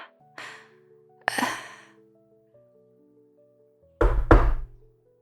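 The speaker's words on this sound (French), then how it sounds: "Toc toc." Knocks on a door in a French story episode, a couple of short raps early and a louder double knock near the end, mixed with sighs and breathy gasps.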